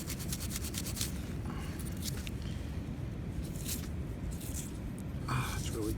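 Toothbrush scrubbing caked dirt off a dug-up silver-colored square metal find from an 1861 corner lot, rhythmic rough rubbing strokes close to the microphone, with a voice talking faintly at times.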